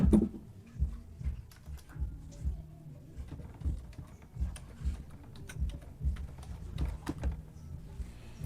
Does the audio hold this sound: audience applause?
no